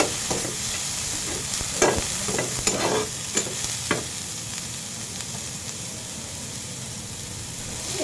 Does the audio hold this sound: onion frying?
yes